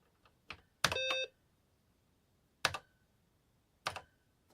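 A few sharp, separate key presses on a retro computer keyboard, mixed with short electronic beeps, spaced out in a quiet room with no talk.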